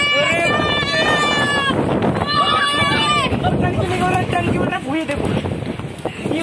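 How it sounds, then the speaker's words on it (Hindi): Strong storm wind buffets a rooftop in a loud, continuous rush and roar, while excited people talk and shout over it throughout. "कितना तेज हवा चल रही है"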